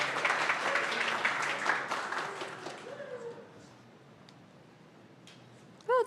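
An audience at a summer startup accelerator demo day claps for a presenter, a steady burst of applause that thins out and fades after about three seconds, leaving a quiet room with a brief sharp noise at the end.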